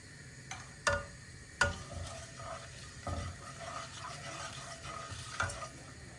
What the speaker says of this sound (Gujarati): એટલે આ જીરું સરસ ગરમ થાય એટલે એમાં થોડી હિંગ એડ કરીશું.